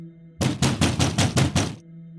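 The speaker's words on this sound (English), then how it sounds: "Something was pounding on the front door with the force of a battering ram." Loud, forceful pounding on a wooden front door: seven heavy, evenly spaced thuds in quick succession, close and booming over a quiet, humming background.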